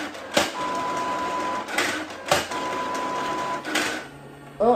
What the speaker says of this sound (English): I should probably turn the printer off.